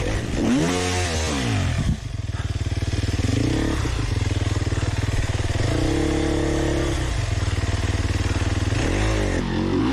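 A dirt bike engine revs hard and steadily, loud and close, its pitch rising and falling through repeated throttle blips with some clattering, and no talk over it.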